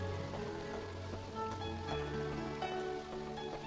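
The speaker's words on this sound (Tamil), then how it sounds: "திடீர்னு மழை பெய்ய ஆரம்பிச்சிரு." Cartoon sound effect of rain suddenly beginning to fall, a soft, steady patter of drops on a surface with a faint tonal background bed, quiet and continuous.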